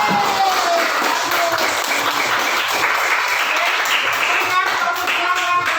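A classroom of students claps together after a group discussion, the dense applause close and continuous throughout, with voices talking over it.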